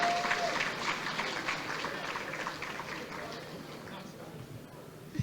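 Audience applause at an anniversary gala and awards ceremony as an awardee is welcomed, a dense crowd clapping that slowly fades over several seconds.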